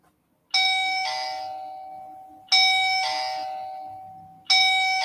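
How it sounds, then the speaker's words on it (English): A doorbell chimes three times after its button is pushed, each ring a bright, clear tone with a slow-fading ring, spaced about two seconds apart and close by with no talking. "You push the doorbell button."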